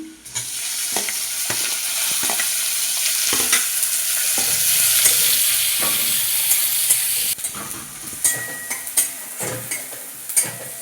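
Chopped tomatoes tossed into onions fried golden for a cashew mutton curry, a loud steady sizzle that flares up as they go in, followed by brisk spoon scrapes and clanks while stirring.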